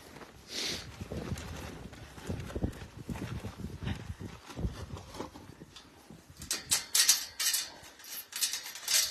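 Horse hooves clip-clop at close range with irregular footfalls as a mustang shifts and steps, scattered stamps and knocks, with brighter clatter toward the end.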